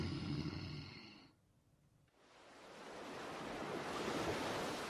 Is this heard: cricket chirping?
no